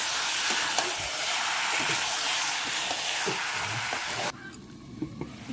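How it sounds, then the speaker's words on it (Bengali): Mutton sautés in a pot with a loud, dense, continuous sizzle and occasional stirring knocks; the hiss drops off sharply near the end, leaving quieter faint clatter. "মাটনটা ভালো করে কষিয়ে নেব।"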